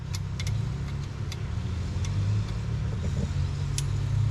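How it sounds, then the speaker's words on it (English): Four-wheelers and dirt bikes run by neighbours nearby, a steady low engine drone with faint distant revving, continuous and moderately quiet, heard alone without talk. "neighbors are deciding to run their four-wheelers and dirt bikes"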